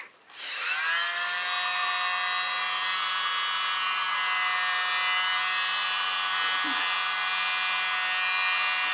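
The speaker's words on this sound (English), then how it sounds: "I'm going to take my little blower" A small electric blower hums steadily and loudly, pushing air across wet fluid acrylic paint in a rainbow-hued bloom pour, starting up abruptly and running without a break.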